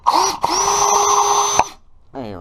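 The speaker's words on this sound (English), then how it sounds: "screw in some 3-inch wood screws" A power drill whines steadily as it drives 3-inch wood screws into a garage storage shelf bracket, one long continuous run that cuts off sharply, then a short voice.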